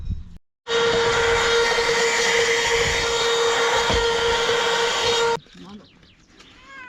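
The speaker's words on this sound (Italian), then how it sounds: "Prendo l'aspirapolvere." A vacuum cleaner switches on with a loud, steady whining roar, runs for several seconds, then cuts off, leaving quiet room sounds behind.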